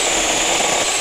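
A cheap cordless handheld chainsaw runs at a loud, steady high-pitched whine as it cuts firewood, then cuts off abruptly at the end.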